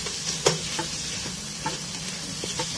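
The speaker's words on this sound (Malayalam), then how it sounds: "നമുക്കിതിലേക്ക് കറിവേപ്പില ഇട്ട് കൊടുക്കാം." Curry leaves hit hot oil in a pan of spiced egg vermicelli biryani base, giving a steady, close crackling sizzle with a few sharp pops and light stirring clicks.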